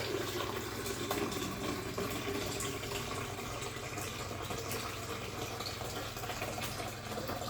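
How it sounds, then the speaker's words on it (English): Water runs steadily into the tank of a Jura Impressa J9 coffee machine, a continuous close, even pour with no talking. "Okay, gotta fill the water tank."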